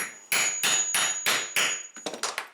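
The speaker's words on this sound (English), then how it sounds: "Make sure it's seated in there and hammer again." Sharp metal hammer strikes on a rivet setting tool in a steady rhythm, five evenly spaced blows followed by a quicker run of lighter taps, close and loud.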